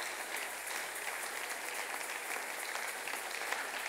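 A church congregation applauding to acclaim the Lord, a sustained, dense burst of clapping from a crowd heard at moderate distance with no talk.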